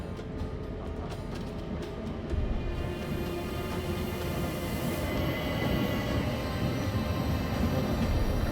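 Orient Express train running in a video game, a steady rumbling clatter of rail cars on the tracks with a continuous mechanical drone, loud and constant throughout.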